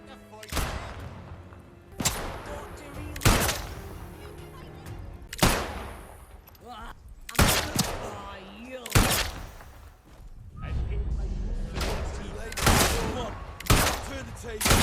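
Gunfire in the video game Atomfall: Wicked Isle, sharp loud bursts of shots repeating every second or two with quieter gaps between, with game voices in the background.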